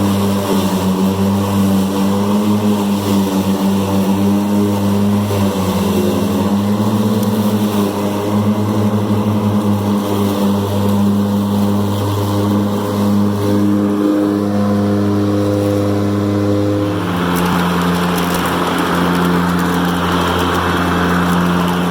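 An Ego Z6 zero-turn electric mower running across a large backyard lawn, a steady loud motor whine and hum that holds unbroken throughout, with a slight shift in tone toward the end and no talk.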